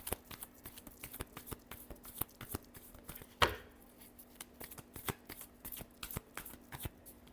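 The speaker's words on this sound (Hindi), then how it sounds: "Last shuffle." Tarot cards riffle and shuffle in a quiet room, a run of soft, quick flicks and taps with one louder snap midway, close and faint with no talking.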